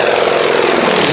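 Radial engine and propeller of a 1930s Beech Staggerwing, a single-engine light aircraft with retractable undercarriage, droning steadily and loudly throughout, with no other sounds.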